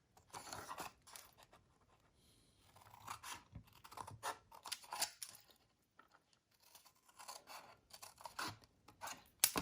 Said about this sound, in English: And then we are going to cut up each one of these lines.